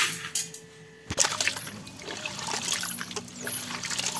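Water trickles and splashes while home-grown toor dal is rinsed in a kitchen, a steady running pour with a sharp knock near the start and soft sloshing throughout.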